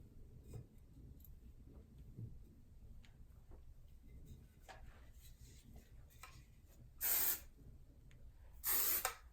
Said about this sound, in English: I will find a little section and kind of spray it